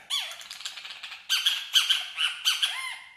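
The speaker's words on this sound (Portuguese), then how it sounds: "É hora de passarinho tá dormindo." Pet bird squawking at night, a run of sharp, close, loud harsh squawks in quick bursts, alone without talk.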